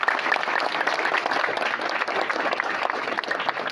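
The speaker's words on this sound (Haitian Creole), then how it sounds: "On bat bravo pour ça." Audience applause at a school event honouring the Collège Immaculée Conception football team, a dense, steady crackle of many hands clapping close by, sustained throughout without a break.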